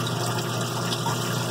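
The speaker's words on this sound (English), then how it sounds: "flushing out the main oil passage?" Oil flushes through the main oil passage of a Mercedes OM617 diesel engine block under rebuild, a steady, close rushing pour that stays constant with no talk.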